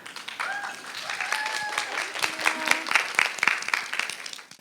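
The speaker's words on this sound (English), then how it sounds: "So please, big round of applause." Applause from an audience at an animal advocacy capacity-building event greets a speaker, a moderate crowd clapping steadily with faint voices and whistle-like tones mixed in, building slightly before fading.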